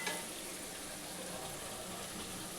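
Mustard-poppy paste goes into a tomato gravy spiced with masala, which sizzles and bubbles in a steady, broad hiss that lasts the whole moment with no pauses.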